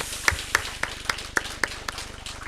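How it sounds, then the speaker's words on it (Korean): Scattered, sparse hand claps from a church congregation during a Thanksgiving worship service, a few sharp claps standing out from a soft, thin patter. "박수로 하나님께 영광 돌립니다"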